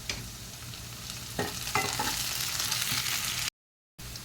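Chopped tomato, half a bowlful, dropped into onions browned to pink in hot oil, then stirred; steady loud sizzle with a few sharp scraping stirs midway, broken by a brief gap near the end.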